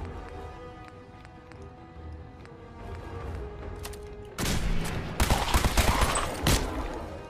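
Laser pistol fire in Fallout 4: quiet game ambience with faint ticks, then a loud burst of rapid sharp shots and bangs in the second half, close and dense, with no talking.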